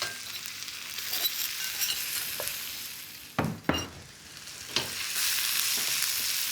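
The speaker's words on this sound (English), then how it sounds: "we want to fry that about a minute or 2" A pounded paste of ginger, garlic and lemongrass sizzles and fries in a pan for a Malaysian potato and chickpea curry, with a steady hiss broken by a few sharp stirring scrapes and clinks partway through.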